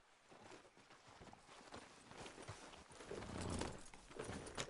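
Horse hooves clip-clop at a steady walking pace in Red Dead Redemption 2, fairly faint and near, with soft outdoor ambience around them.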